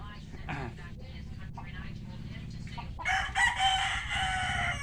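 A rooster crows loudly and close by toward the end, following a stretch of murmured background noise and faint clucking.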